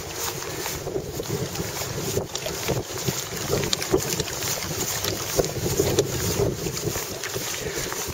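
Steady wind buffeting the microphone outdoors, a continuous low rumble with occasional gusts, likely on open water with no voices.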